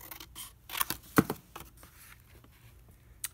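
Scissors snip through paper while trimming a tag, giving a few short, close, irregular cuts with quiet rustling in between.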